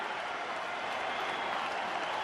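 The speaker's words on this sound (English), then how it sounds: "they'll applaud the effort of Carlos Gonzalez" A baseball crowd at Coors Field in Colorado, St. Louis at Colorado, applauds a fielder's effort with sustained, even clapping from a large stadium audience, with faint commentary underneath.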